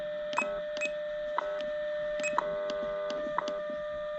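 A Bearcat DX 1000 receiver tuned to the 20 meter ham band gives out a steady tone with rhythmic electronic beeps and clicks repeating about once per second over a hissy noise floor.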